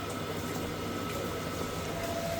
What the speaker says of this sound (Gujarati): આપણે પાણીમાં ઉકળાતો આવી ગયો છે